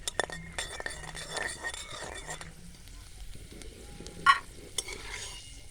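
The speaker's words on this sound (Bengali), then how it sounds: "চীনাবাদামগুলো ভেজে নেব" Peanuts frying and being stirred in a pan over a low flame for a village-style vegetable chop, with a soft sizzle, scraping and a few light clinks, plus a brief sharp clink near the end.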